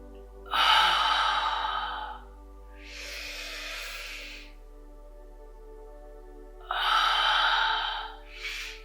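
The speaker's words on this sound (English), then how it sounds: "Inhale, exhale" Loud deliberate breaths during a yoga session, heavy inhales and exhales alternating in long rushing bursts, close and alone with no talking.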